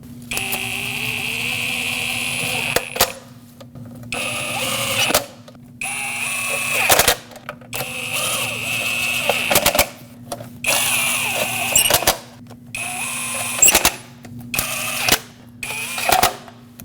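Intake manifold bolts on a Lexus IS250 are snugged up from the center outward in a cross pattern, giving repeated short bursts of a whirring tool or ratchet with pauses between them, close and fairly loud over a steady background hum.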